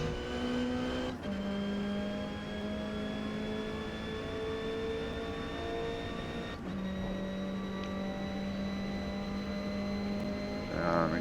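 A Lancia Delta race car in Forza Motorsport, a D class qualifying lap at Catalunya, engine droning steadily with gear-change dips and rising revs, engine noise alone and loud throughout.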